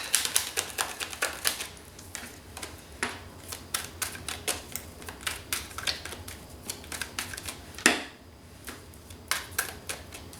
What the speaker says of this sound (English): I'm going to shuffle for a while